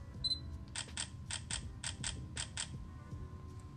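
Sony ZV-1F compact camera firing its shutter in continuous shooting mode, a steady burst of about nine quick electronic clicks at an even rhythm, close and crisp over quiet room noise.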